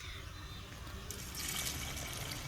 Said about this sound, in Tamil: இதை நல்லா தண்ணி ஊற்றி வாஷ் பண்ணிக்கலாம்